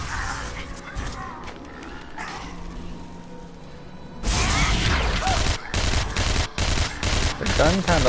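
Burst-fire gunshots from a Gunner character in the video game Tera, starting with clustered sharp reports and becoming louder and denser midway, mixed with other combat effects.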